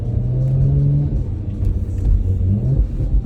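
A 2018 Audi RS5 2.9 V6 TFSI coupé with a pre-GPF RS exhaust revs and settles in a deep, throaty rumble, rising and falling in pitch over a few seconds, close and fairly loud.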